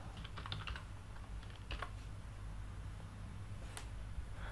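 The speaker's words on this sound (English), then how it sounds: "I have just typed that search about Venkateshwar Narayan" A search being typed on a computer keyboard, quick bursts of soft key clicks close by and fairly faint, followed by a lone tap near the end.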